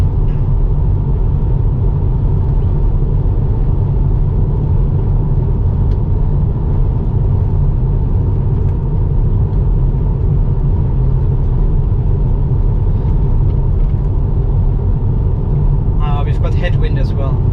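A Tesla Model 3 cruising on a 100 km/h highway into a headwind fills the cabin with a steady low road rumble and wind noise, constant and close.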